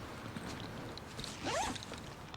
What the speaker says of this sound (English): zipper, I guess.